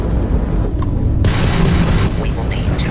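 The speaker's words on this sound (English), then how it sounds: "that's a Crimson Fleet ship bringing its weapons to bear" Spaceship weapons fire in Starfield during a space battle with a Crimson Fleet ship, a burst of booming blasts that flares up and then sustains as rumbling, crackling fire under dense game noise, with a voice speaking over it.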